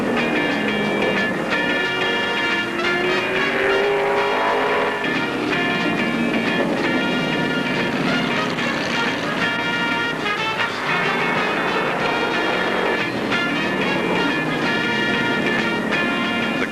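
NASCAR modified race cars of 1975 lap Martinsville Speedway in a loud, unbroken roar of engines, with overlapping whines that rise and fall as the pack charges through the corners.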